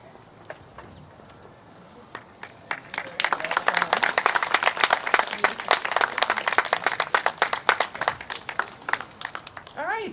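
Audience applause at a Westfield Class of 2021 graduation ceremony: a few scattered claps build after a few seconds into dense, sustained clapping from a large crowd that keeps going to the end.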